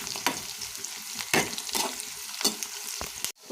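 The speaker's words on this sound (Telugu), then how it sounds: "ఇప్పుడు పోపు బాగా వేగిపోయిందండి." Red chillies and seasoning crackle in hot oil in a pan, a Telugu tempering for ridge gourd curry, with steady close sizzling, stirring scrapes and sharp spattering pops throughout, no talk.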